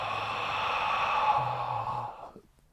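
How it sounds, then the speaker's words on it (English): One long, deep exhale, close and breathy, lasting about two seconds and then fading out into quiet. "I am breathing out."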